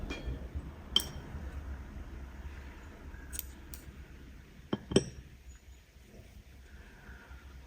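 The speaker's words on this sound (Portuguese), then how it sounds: "então eu posso cortar o meu fio." Scissors snip through crochet yarn while a crochet sunflower is being made, giving a few quiet, sharp clicks spread over several seconds with soft handling noise in between.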